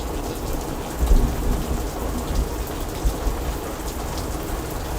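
Steady rain falling during a live Giants versus Diamondbacks baseball broadcast, a loud continuous hiss with a few low rumbling swells, no speech over it.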